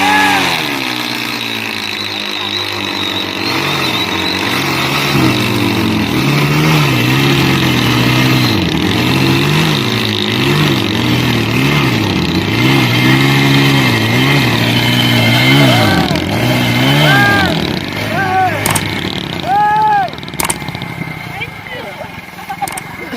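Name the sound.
Dhoom and Road Prince motorcycles revving in tug-of-war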